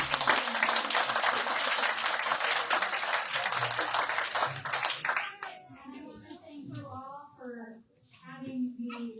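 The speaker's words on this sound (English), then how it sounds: "I want to give our young designers a round of applause." Audience applause for young playground designers at a park board playground reveal: dense, steady clapping from a crowd for about five seconds, then fading as an adult begins speaking.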